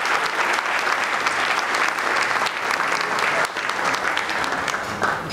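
Sustained audience applause for a chamber choir of young women at a business awards dinner, dense and steady throughout with no voices over it.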